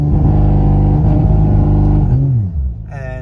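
An Audi B9 RS5 with the 2.9T engine holds a loud, steady high rev during launch control, then the note drops away and settles near the end, close and continuous.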